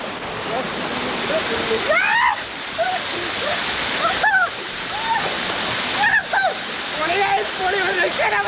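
A hidden waterfall roars steadily and close by, a dense rushing wash of water with a person talking over it.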